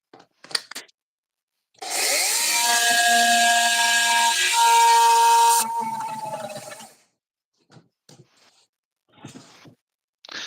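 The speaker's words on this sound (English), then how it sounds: "We're going to have to run it on the saw for a second." A DeWalt power saw spins up and cuts through wood for about five seconds, a loud whining buzz whose pitch dips under load and then winds down, with brief talk and handling noises before and after.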